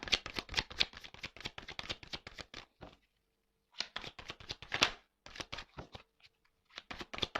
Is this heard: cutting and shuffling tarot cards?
yes